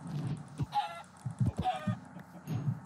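Chickens cluck in Minecraft, a few short blocky clucks in quick bursts with pauses between, fairly close and alone with no talk.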